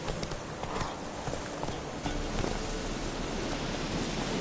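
Roach the horse gallops in The Witcher 3, a steady, muffled run of hoofbeats under a constant wash of rain-like noise, at moderate loudness throughout.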